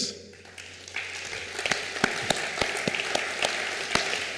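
An audience applauds honorary presidents called on stage at an international lawyers' association ceremony, with steady clapping that swells after a quiet start and carries a few sharper individual claps.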